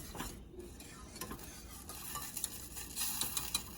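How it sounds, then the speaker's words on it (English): A thickening casserole sauce in a pot being stirred before a gentle boil, soft scraping and bubbling with a few light metallic clinks of a utensil against the pot, fairly quiet and without talking. "I'm going to stir it up, and then I'm going to let it come to a very gentle boil"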